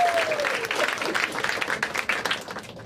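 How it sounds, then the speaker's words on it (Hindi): An audience at a comedy show applauds in a steady, dense wash of clapping that lasts throughout and is mixed with a little crowd noise. "एक बार ताली बजाएं इन लोग इनके लिए।"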